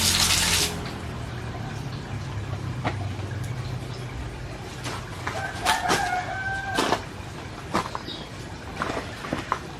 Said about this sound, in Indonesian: ini saya bilas dulu teman-teman, karena kebetulan di belakang ada keran yang buat tempat wudhu